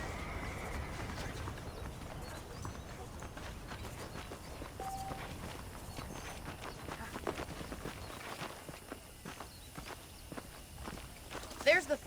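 Steady clip-clop of horse hooves at a walking pace in the video game Red Dead Redemption, mid-distance, with faint background ambience and a brief louder clatter near the end.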